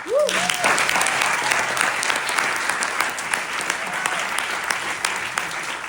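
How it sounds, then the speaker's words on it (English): Audience applause for the fifty volunteers at the opening of the Somali Week Festival in London, a dense, steady wash of clapping from a large crowd that holds strong for about six seconds, with a brief voice at the very start. "can you please give a round of applause to our 50 volunteers?"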